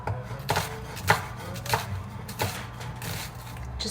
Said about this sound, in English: chop your onion